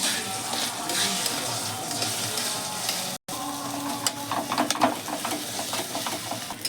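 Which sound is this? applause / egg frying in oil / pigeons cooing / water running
egg frying in oil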